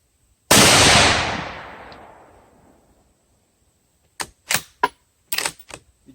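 The bolt of a Thompson Center Compass rifle, a little gritty, is worked after a single loud, sharp blast that rings away over a few seconds. A quick run of crisp mechanical clicks and clacks follows, close and distinct.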